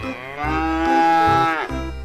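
A large mother cow gives one long, loud, close moo that swells and then drops off sharply, with no talking over it.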